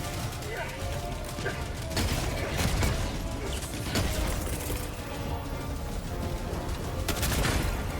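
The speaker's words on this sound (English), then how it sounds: "I can hear him shooting over there" Gunfire in the video game Helldivers 2 on the bot front, repeated bursts of rapid automatic shots and mechanical clatter, steady and mid-distance, with a player's voice talking over it.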